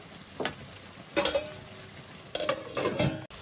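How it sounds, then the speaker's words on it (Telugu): Onions sizzle softly in hot oil with salt while a spoon stirs them in a few short scraping bursts, close and clear with no voices. "ఉల్లిపాయలు నూనెలో వేగేటప్పుడు 1 స్పూన్ సాల్ట్ వేసుకుందాం. సాల్ట్ వేసుకుని కలుపుకొని మూత పెట్టుకొని వేపుకోవాలి."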